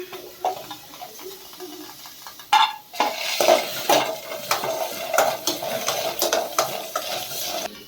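Onion and green chilli stirred and frying in a pan for mutton dum biryani, with a steady sizzle under repeated scraping and clinking of a spoon against the pan.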